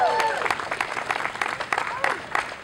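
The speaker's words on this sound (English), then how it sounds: "let's have a big round of applause for all three of them" Applause outdoors in the cold at a mock graduation for three people, scattered and uneven clapping that tapers off, with voices and cheering mixed in.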